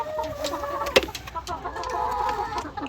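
Gray hens in a farm nesting area cluck in short, close bursts, with one sharp sound near the start and soft rustling between calls.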